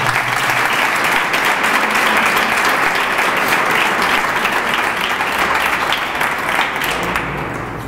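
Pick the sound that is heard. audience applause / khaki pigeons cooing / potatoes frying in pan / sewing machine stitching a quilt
audience applause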